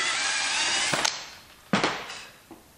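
Power drill boring a hole through a metal angle bracket while building a DIY camera crane, a steady whining drill tone with a few sharp clicks and bursts as the bit catches and bites into the metal.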